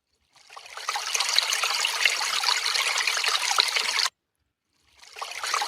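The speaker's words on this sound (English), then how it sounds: "water flow" Water flows in a steady, bright trickling stream for about four seconds, stops abruptly, then starts again near the end, close and clear with no other sound.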